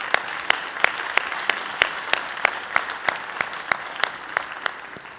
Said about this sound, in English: Let's take a moment to give our parents, guardians, and families a round of applause.